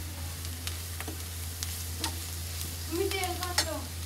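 Vegetables stirred and frying in a pan with turmeric, a steady low hum underneath and scattered scrapes and clinks of a spoon against the pan, with a brief squeaky scrape near the end.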